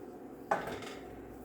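A utensil scrapes and clatters once against a pan as flour gravy is stirred, a single sharp contact followed by a short scraping tail against quiet background.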